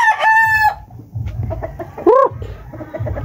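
A rooster crows loudly and close by at the start of a gamefowl farm scene with many hens. Hens keep up a low, scattered clucking around it, and another crowing or squawking burst follows.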